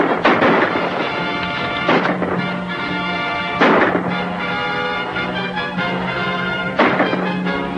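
Gunfire in a 1940 western film plays as a few loud, booming shots spaced several seconds apart, each with a long rumbling tail, heard over a steady background hum with no talking.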